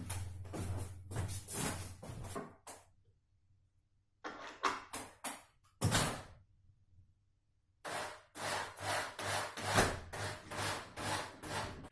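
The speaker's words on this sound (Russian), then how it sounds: "Теперь прикручиваем второй саморез." A self-tapping screw is driven into a wooden table leg while a desk is assembled, producing bursts of close rubbing and grinding strokes split by quiet pauses.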